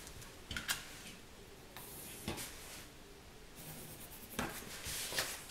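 A pencil tracing around a piece of paper, faint scratchy strokes broken by a few soft taps and clicks, quiet and close, with no speech.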